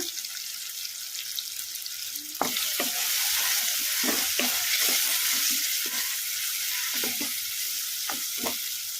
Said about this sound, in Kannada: ಟೊಮಾಟೊ ಮೆತ್ತಗಾಗೋವರೆಗೂ ನಾವು ಕಲಿಸ್ಕೊಂತ ಫ್ರೈ ಮಾಡ್ಕೊಂಡ್ಬಿಡೋಣ